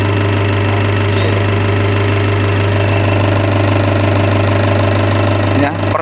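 An Isuzu Panther diesel engine idles at low rpm on an injection pump calibration setup, producing a steady, loud, even drone with a faint knock that holds unchanged until a brief disturbance at the very end.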